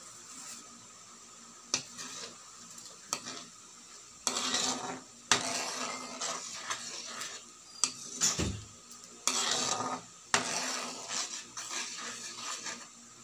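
Seafood stirred in a pot of butter garlic sauce, with repeated scraping and clinking of a utensil against the pot in short bursts, close and fairly quiet, no talking.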